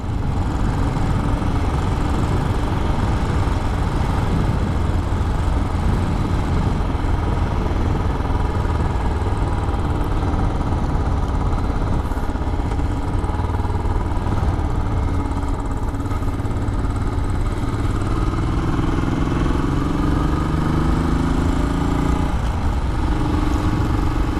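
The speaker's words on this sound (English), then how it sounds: "today we're taking the Royal Enfield for a ride. This is a Royal Enfield 500." A Royal Enfield 500 motorcycle engine drones continuously under way, a steady, close, loud thrum mixed with wind rush throughout, with no talking.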